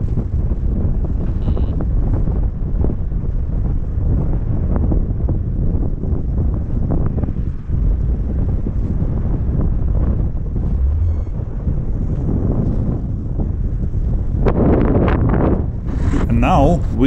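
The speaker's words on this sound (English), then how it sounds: "it's southwest wind, yeah, pushing me towards to the hill" Strong gusty wind buffets the microphone throughout a paragliding landing near a hill near Loulé, a continuous loud low roar with rushing surges and brief flapping near the end.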